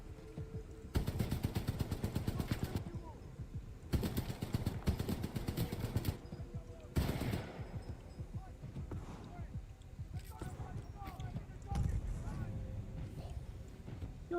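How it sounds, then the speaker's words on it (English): EVA shotgun blasts in Titanfall 2 arrive in loud, sharp bursts near the start and again around the middle, spaced among quieter game noise, with a voice speaking at times. "It was an Evo shotgun"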